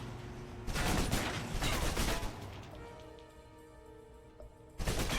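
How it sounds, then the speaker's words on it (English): SMG gunfire in the video game Alpha Protocol bursts loudly for a couple of seconds, tails off into fading mechanical hum, then erupts again at the end. "with multiple opponents, the SMGs can help clear the room quickly"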